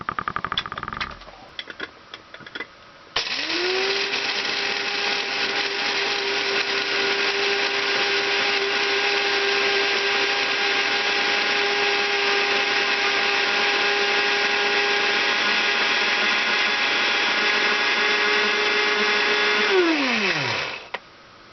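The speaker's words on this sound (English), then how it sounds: "I'm going to grind my coffee and see what happens here" An electric coffee grinder grinds beans in a steady, loud motor whine that runs for about seventeen seconds, then winds down, with no talk over it.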